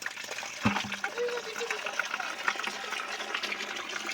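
Water flows and splashes steadily as clothes are washed in a pooled outdoor water area at a village home, with a few sharper splashes near the start and voices talking nearby throughout.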